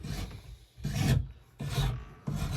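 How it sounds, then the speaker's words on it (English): A wood rasp shaping a wooden axe handle during hafting, four rough scraping strokes in a steady back-and-forth rhythm with brief gaps between them, close and alone without talking. "Let the rasp do the work."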